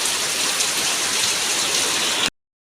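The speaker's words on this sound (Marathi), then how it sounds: "जोरदार पाऊस चालू" Heavy monsoon rain hammers down in Konkan, a loud unbroken rush of close downpour that cuts off abruptly at the end.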